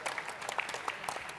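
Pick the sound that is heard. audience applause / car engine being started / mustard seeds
audience applause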